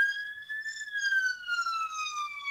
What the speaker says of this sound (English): And we get a little siren in the background.